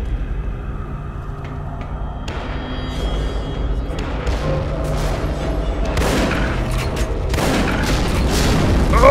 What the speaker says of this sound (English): Explosives.